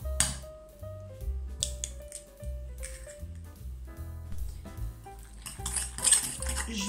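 A utensil stirs an egg into a cooked onion, shallot and leek compote, giving faint, irregular scraping and clinking against the dish along with soft squishy sounds.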